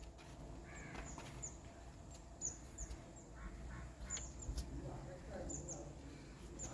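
A person's voice imitates a duck waddling through a paddy field: a run of nasal honking, quacking calls over a low room hum.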